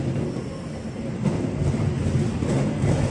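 The Progo passenger train rolls into Jatinegara station, Jakarta, at night with a steady low rumble and rail noise, wheels clattering faintly over the tracks, fairly close and continuous throughout.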